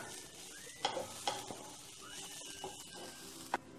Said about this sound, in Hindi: हमारी गोभी हल्की सी फ्राई हो चुकी है, अब हम इसमें डाल देंगे हल्दी, हल्दी डाल देंगे पूरी और इसे भी मिक्स कर लेंगे इसके साथ।